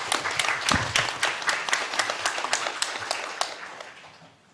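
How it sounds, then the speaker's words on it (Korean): An audience at a 2022 Jeju forum session applauds to welcome Kim Byung-joon, a dense, steady burst of clapping from a large hall that slowly fades out. "김병준 위원장님을 큰 박수로 환영해 주시기 바랍니다."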